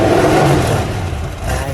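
A 1978 Ford Mustang II King Cobra with a 302 V8 revs loudly and close by, its engine roar swelling and dropping again over under two seconds, with no one speaking.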